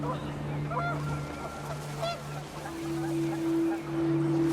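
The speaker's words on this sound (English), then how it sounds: "The wind picked up, and panicked geese appeared and quickly went." Panicked geese honk in the video game What Remains of Edith Finch as wind picks up, a few nasal calls scattered over a sustained low droning tone, fairly faint and distant.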